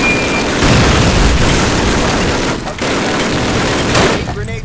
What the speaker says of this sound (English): now the mortars are just gonna make aiming even more difficult